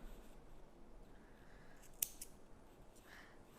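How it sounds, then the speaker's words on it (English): A single quick snip of scissors cutting knitting yarn after an I-cord, one short close cut against a quiet room. "cut the yarn."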